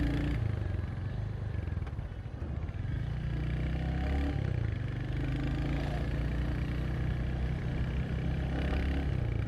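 A 2025 Royal Enfield Hunter 350 motorcycle runs on a highway, its steady single-cylinder engine thrum loud and close with wind noise and slight rises in revs as it is ridden.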